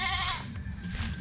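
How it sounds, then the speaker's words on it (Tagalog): A goat on a farm gives a short, nearby bleat, wavering and nasal, lasting about a second with faint background noise. "Ang kambing natin"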